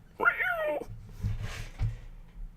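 A domestic cat lets out one clear, close meow at the start, followed by quiet room sounds and faint speech.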